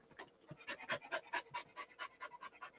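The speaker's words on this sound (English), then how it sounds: "She's sitting over here beside me doing the panting thing again." A dog pants steadily beside someone indoors, quick rhythmic breaths repeating close and moderately loud with no talk over them.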